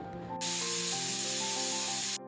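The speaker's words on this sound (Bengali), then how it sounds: "আমার কিন্তু প্রেশার কুকারে সিটি দিয়ে দিয়েছে" A pressure cooker holding chickpeas and potatoes lets out a loud, steady hiss of escaping steam that starts abruptly, runs unbroken for nearly two seconds and cuts off sharply, with faint background music running underneath.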